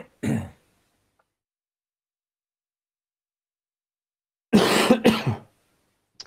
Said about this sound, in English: I actually coughed into my thick woolly dressing gown to mute it.